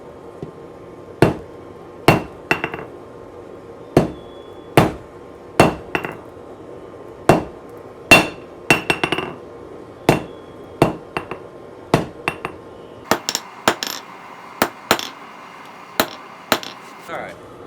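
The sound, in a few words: hammering 1/2 inch round mild steel to forge a point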